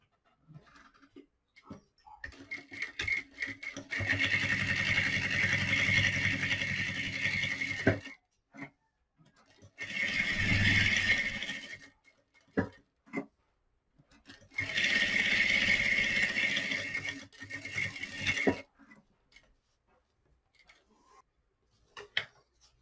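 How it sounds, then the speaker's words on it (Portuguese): Sewing machine stitching layered fabric over batting while making a phone and document holder, in three loud whirring bursts separated by pauses and small handling clicks, close by. "agora eu vou sobrepor e vou fazer uma costura em 3 partes"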